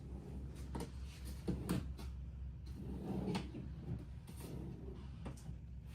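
Drawers on a rolling kitchen island with storage slide open and shut a few times, soft repeated wooden knocks and rumbles close by over a steady low hum, with no talking.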